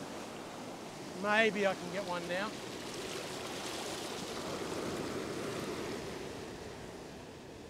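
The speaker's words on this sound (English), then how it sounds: "Here's another wave coming now." Ocean waves breaking on a fishing beach, a broad continuous wash of surf swelling and fading, heard under a brief spoken line near the start, with light wind noise.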